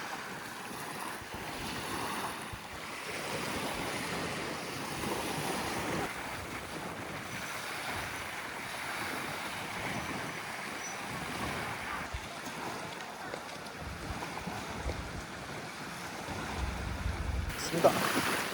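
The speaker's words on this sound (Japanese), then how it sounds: "すごい波が。" Ocean surf at Ishigaki Island, a continuous roar of breaking waves mixed with heavy wind buffeting the microphone, steady and loud throughout with no clear speech.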